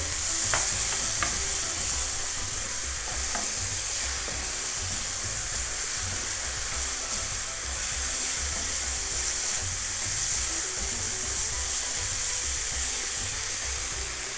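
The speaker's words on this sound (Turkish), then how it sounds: "Birazcık daha su katıyorum ve kavurmaya devam ediyorum." Steady sizzle of içli köfte filling being stir-fried in sunflower oil with a splash of water, with scraping stirs and a few sharp clinks of the utensil against the pan, continuous and close throughout.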